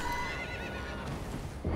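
A horse whinnies briefly in a video game, a single close neigh over a steady backdrop with faint hoof clip-clop, no talking.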